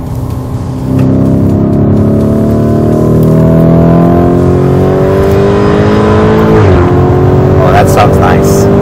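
A Lamborghini Urus SUV in sport (Sport/Anima) mode accelerates hard on a race track, its loud engine note climbing steadily through the gears with a brief shift dip, close and continuous inside the cabin.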